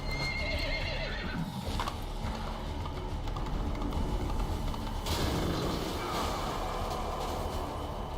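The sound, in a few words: horse neighing in video game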